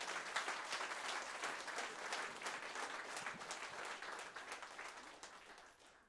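A church congregation at an online worship service applauds for the Lord, producing dense, steady clapping that fills the room without a break and fades slightly at the end.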